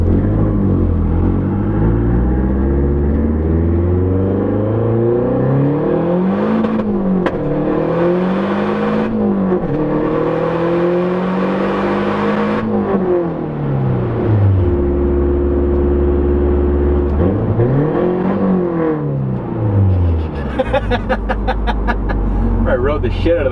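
A Mazdaspeed 3 with a big turbo accelerates hard, its engine and exhaust climbing through repeated rising pulls with gear-change dips, loud and steady, while people talk over the engine.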